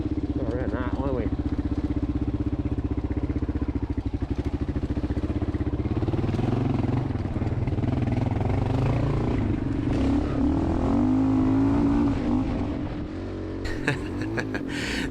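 A Kawasaki KLR adventure motorcycle ridden hard on single track at Glasshouse Mountains, its engine droning and revving loudly and steadily with rattling and clatter from the bike, while a rider's voice carries over the noise.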